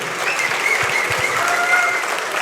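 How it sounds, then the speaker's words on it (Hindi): An audience applauds at a mushaira poetry recital in Pune, a steady, continuous wash of clapping from a sizable crowd, with a few faint low thumps underneath. "पुरजोर तालियों से उनका इस्तकबाल हो"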